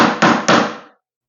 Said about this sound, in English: Now they're in place, I'm just going to tap them all the way through.